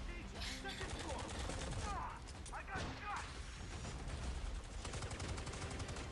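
Dense, continuous gunfire and crashing effects from a shooting video game trailer, loud throughout with mechanical clatter and voices mixed in.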